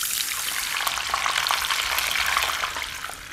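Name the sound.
pigeon pieces deep-frying in oil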